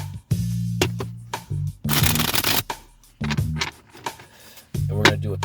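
Tarot cards are shuffled in several quick riffling bursts. Short gaps of quiet separate the bursts, and a low hum sits underneath, close up.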